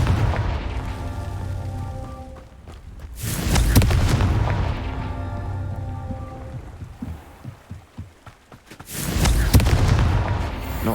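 Confringo blasting spell detonations in Hogwarts Legacy, two heavy booming explosions with rumbling, debris-like tails, separated by a few seconds of quieter crackling ambience; no talk.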